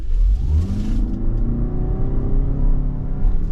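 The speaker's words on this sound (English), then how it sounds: "we'll do one more acceleration test here now from sport mode" A 2023 Toyota RAV4 Prime XSE AWD accelerates hard in sport mode, its engine note climbing steadily in a loud, continuous rising drone with road rumble beneath, close and without talk.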